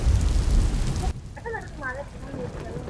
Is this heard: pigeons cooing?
no